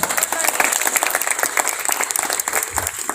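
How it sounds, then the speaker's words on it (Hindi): An audience claps at a literary festival performance in Chhattisgarh, a brief burst of dense, steady applause from a crowd with a voice faintly mixed in. "हो जाए एक बार इसमें ताली।"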